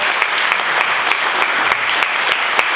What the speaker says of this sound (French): Est-ce qu'on peut bien l'acclamer, s'il vous plaît?